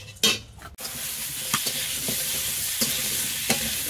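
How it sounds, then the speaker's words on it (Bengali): Potatoes fry in hot oil in a pan for a Bengali curry, a loud continuous sizzle opening with a sharp burst as they go in, then occasional stirring scrapes, no voices. "এবার তরকারির জন্য আমি আলুটাকে ভেজে নেব এই তেলের মধ্যে।"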